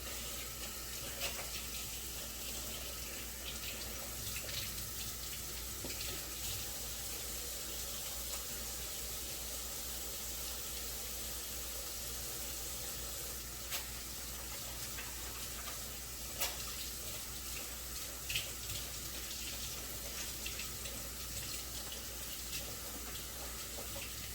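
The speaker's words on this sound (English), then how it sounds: "now I'm gonna go wash my hand" Hot tap water runs steadily into a sink, a constant close wash with occasional small clicks and splashes as hands are rinsed with soap.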